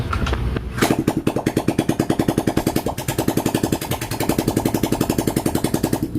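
A Suzuki Skydrive scooter engine runs with a still-unrepainted exhaust, its close, loud putter giving a rapid, even pulse with a brief blip early on.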